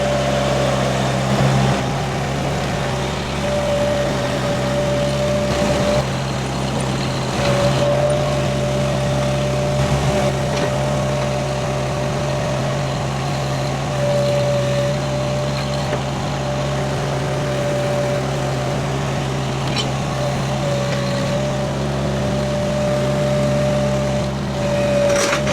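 A heavy V1000 loader engine idles and rumbles steadily throughout, a constant low drone with a faint tonal whine and no voices.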